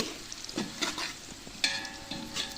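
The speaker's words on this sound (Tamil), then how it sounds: "கோல்டன் ப்ரௌன் வரணுன்ற வெங்காயம் கோல்டன் ப்ரௌன் வர்ற வரைக்கும் நம்ம வெயிட் பண்ணலாம்" Sliced onions frying in a pan for chicken biryani, a soft steady sizzle with intermittent scraping stir strokes and a brief clink, fairly quiet and without voices.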